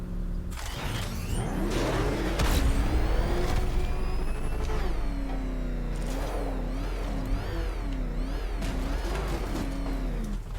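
Car in the video game Batman: Arkham Knight driving and revving, the engine whirring and rising and falling in pitch in repeated surges over a steady mechanical hum, close and continuous.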